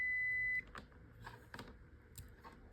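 A multimeter gives a loud, steady continuity beep for about half a second as its lead touches the middle wire of a car battery charger transformer's secondary coil. Quiet handling noise follows.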